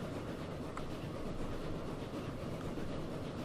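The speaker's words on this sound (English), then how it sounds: "There's the first ever passenger train we made." A passenger train rolls along in the Transport Fever 2 game, giving a steady, dense rumble with faint clickety-clack that holds at an even loudness from start to end, with no voices over it.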